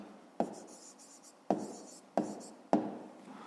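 Pen or pencil strokes writing out a fifth-grade math exercise, four sharp taps on paper each trailing into a short scratching stroke, close and fairly quiet with no talking.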